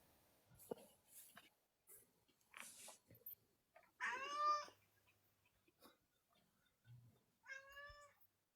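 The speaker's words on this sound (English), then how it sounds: "I can hear the cat." A domestic cat on a cat scratcher gives two clear meows amid quiet rustling and small scratching sounds, fairly close and moderately loud, with no talking.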